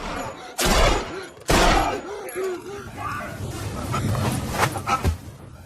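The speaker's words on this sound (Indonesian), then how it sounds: "Fukami tiba-tiba kalap dan menembaki Samiun berkali-kali" Two loud gunshots ring out close together, followed by a chaotic clatter of noise and shouting voices.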